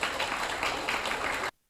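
Audience applause at an Indonesian public event honoring young people, a dense steady wash of clapping that fills the room and then cuts off abruptly.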